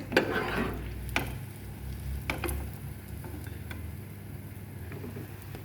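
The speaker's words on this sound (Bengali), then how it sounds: "এইভাবে আমি সবগুলি পিঠা বাজিয়ে নেব" Moong dal malpua pitha frying in hot oil, a steady bubbling sizzle with a few sharp pops and spatula scrapes, close and continuous with no voices.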